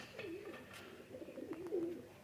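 Pigeons kept by a fancier for flying coo softly in a loft, two or three low rolling coos with faint rustles and clicks in a quiet space.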